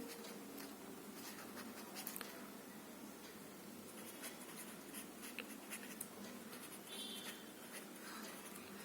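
A pen scratches out a handwritten maths answer, a continuous dense scribble with brief pauses and tapping strokes, close and quiet, with no speech.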